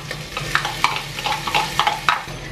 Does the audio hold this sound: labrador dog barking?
no